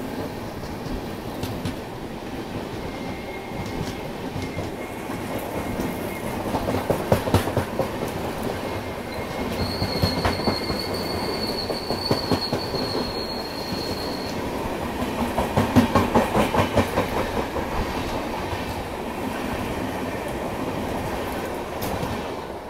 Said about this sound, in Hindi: आई थिंक ये रामेश्वरम तिरुपति एक्सप्रेस है